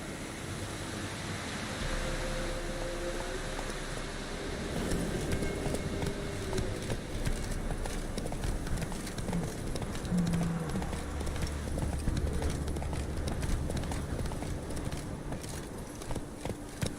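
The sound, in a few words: horse Roach galloping, clip-clop hooves in video game Witcher 3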